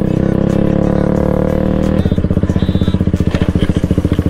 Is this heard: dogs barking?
no